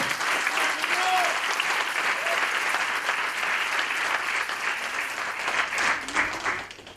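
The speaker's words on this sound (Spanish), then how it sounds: "Dale un fuerte aplauso al Señor si se lo vas a dar a Él." Church congregation applauding the Lord, a dense, steady wash of many hands clapping throughout, loud and close, with some voices mixed in beneath the clapping.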